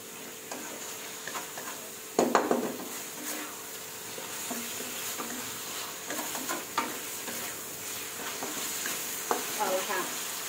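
Chicken stir-fries in tomato sauce with a close, steady sizzle. A spatula scrapes and clacks against the pan in uneven bursts, with one louder clatter early on.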